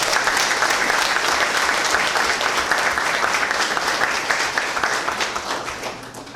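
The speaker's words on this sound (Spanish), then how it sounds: "Yo pido un aplauso para los organizadores de este evento." An audience at an event applauds the organizers with sustained, dense clapping that fills the room, loud at first and gradually thinning toward the end.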